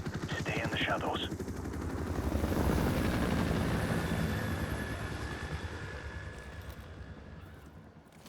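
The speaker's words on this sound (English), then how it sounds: "Enemy helicopter, get down." An enemy helicopter in the video game Modern Warfare Remastered gives a steady low rotor drone that swells toward the middle and fades slowly, with bursts of distant gunfire mixed in.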